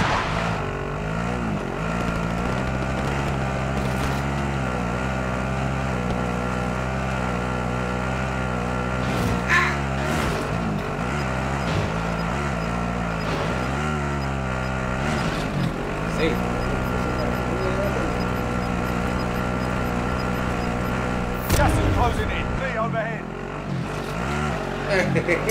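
A vehicle drives in Call of Duty Warzone, its engine droning steadily with shifting pitch for the whole stretch while several players talk excitedly over it.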